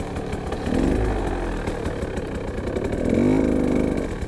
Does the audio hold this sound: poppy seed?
no